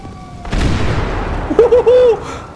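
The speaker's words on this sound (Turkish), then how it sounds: "C4 attım içeriye. Güm." A sudden deep C4 explosion booms and rumbles away in GTA 5, followed by a short bright warbling tone; game sound effects, fairly loud and close.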